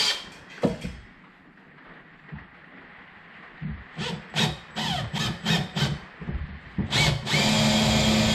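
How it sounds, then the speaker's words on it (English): A power drill bores into a fiberglass top box during rack fitting, coming in after a quiet stretch as a series of short, loud, grinding bursts that end in one long sustained run. "So let's get drilling."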